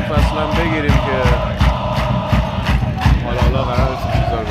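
Supporters at the season's final sports match cheer in loud, rhythmic bursts with regular drum-like pulses, close and dense, with voices throughout.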